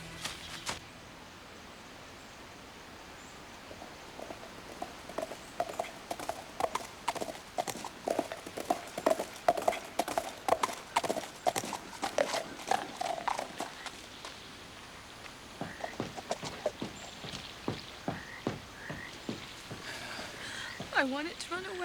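Horses' hooves clop in an uneven, quickening rhythm, with a whinny and voices mixed in over a rough outdoor background.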